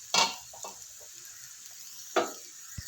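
Banana flower cutlets frying over low heat in a pan as they are gently flipped, with two short scraping, sizzling bursts standing out over a faint steady sizzle.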